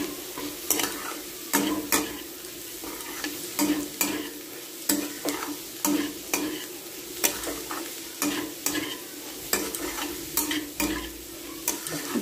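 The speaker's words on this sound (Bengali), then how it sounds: "এখানে ম্যাগি মশলা দিয়েছি আর সয়া সস দিয়েছি, দিয়ে ভালো করে ভেজে নিচ্ছি" Chow mein vegetables stir-frying in a pan with Maggi masala and soy sauce, a steady sizzle broken by regular scraping strokes of the spatula, close and unhurried, with no talk.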